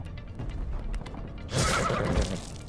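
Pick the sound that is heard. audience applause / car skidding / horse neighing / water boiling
horse neighing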